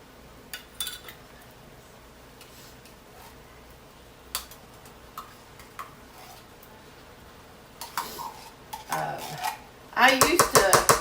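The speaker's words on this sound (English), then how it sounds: "Then I'm going to add my can of tomato paste." Canned tomato paste goes into a pot of turkey chili with scattered metallic clinks and taps of utensils against the pot and can, then a louder burst of scraping and clattering near the end.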